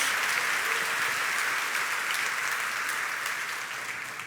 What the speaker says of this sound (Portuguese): Pode dar uma salva de palmas ao Senhor